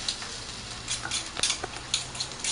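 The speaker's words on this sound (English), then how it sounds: "Just giving it a good stir." A fork and spoon stir soy sauce, giving soft, quick clinks and light scraping taps in an irregular rhythm, close and fairly quiet with no voices.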